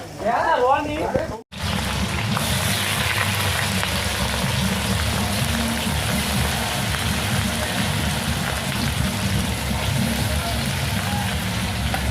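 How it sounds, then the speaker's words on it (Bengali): Garlic and onion sizzle in hot oil with a dense, steady crackling hiss that runs loud and continuous after a brief voice and cut at the start. "রসুন পেঁয়াজ দিয়ে দেওয়া হলো, একসাথে এটা তেলের মধ্যে ভেজে নেবে।"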